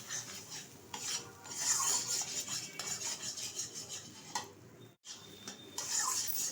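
Lentil curry stirred in a pot for mung dal kalia, with a steady scrape and clink of a spoon against the pot wall running throughout, close and moderately loud, broken by a brief silent gap near the end.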